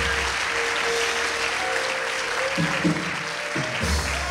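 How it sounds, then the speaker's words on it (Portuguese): A church congregation at a missions service applauds in a broad, sustained wash of clapping, with a low hum and some murmuring voices running underneath. "aplauda o Senhor mais uma vez por isso"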